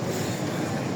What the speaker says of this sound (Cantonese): 搭第二期輕鐵，第一架退役嗰架